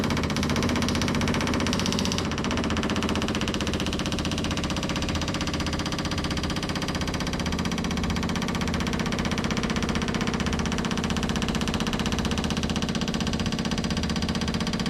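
An M718A1 military diesel engine runs steadily after starting, a loud, continuous low rumble with a rhythmic knocking throb that holds even from start to finish.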